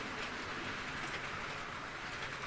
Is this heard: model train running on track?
yes